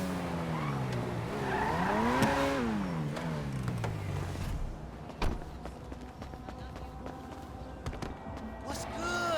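A car driving in Grand Theft Auto 5, a rising and falling engine whine with tyre squeal, then a thud and quieter rumbling, with someone talking over it.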